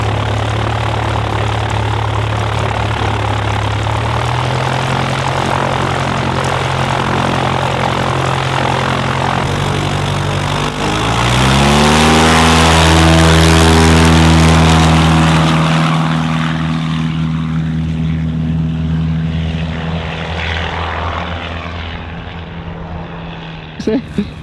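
Small propeller airplane taking off from a mountain airstrip: a steady engine drone swells to full-power roar with rising pitch as it passes close, then fades into the distance.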